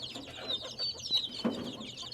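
Backyard chickens clucking in short, scattered calls at moderate distance, with a few sharper bird chirps over quiet outdoor background, no talking.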